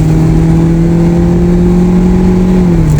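A Kia Picanto with an 84 hp engine accelerates hard through its gears, a loud and steady engine drone that climbs in pitch, then dips briefly near the end at a shift.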